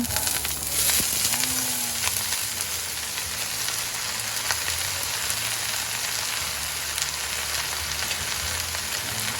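Food browning in a hot pan sizzles steadily for several seconds, a dense even crackle up close with a few brief scrapes and clinks, no one speaking.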